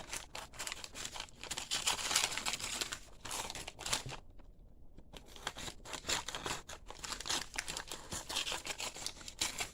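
Scissors crunch repeatedly through junk mail paper as the edges are trimmed off in a rough cut, a string of close crisp snips and paper crinkles with a brief pause midway.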